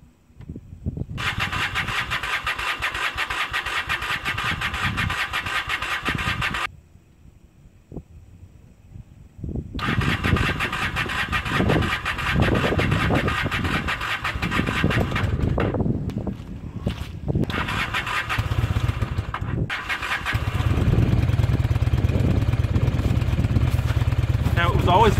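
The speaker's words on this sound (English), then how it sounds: "Always finicky trying to start in the cold." Diesel Ford F-250 or 5.0 V8 Ford F-150 pickup engine cranking in cold snowy weather, with several loud bursts of cranking and running separated by pauses, settling into a steady rumbling idle near the end.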